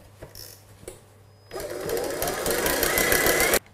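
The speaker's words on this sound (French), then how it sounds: "ajouter le sucre restant et fouetter rapidement pour la rendre plus dense" Meringue whisked rapidly as the remaining sugar is added for a lemon meringue tart, a dense steady whirring that starts after a couple of soft knocks and runs loud and continuous for about two seconds before stopping abruptly.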